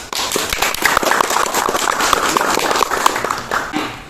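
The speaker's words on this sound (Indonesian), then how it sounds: "Oke, tepuk tangan." Crowd clapping steadily, a dense patter of many hands continuing for a few seconds at moderate loudness.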